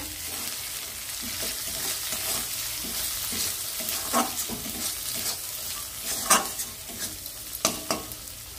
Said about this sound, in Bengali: এবারে আমি মশলাটা ভালোভাবে কষিয়ে নেব।